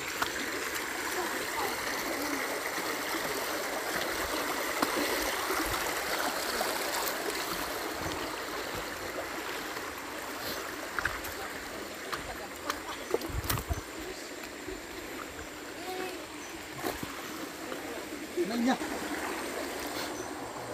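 Stream water rushes steadily and fairly loudly across the whole stretch, a broad continuous wash at a spot where tilapia are being caught, with a few brief knocks and splashes rising above it and no talk.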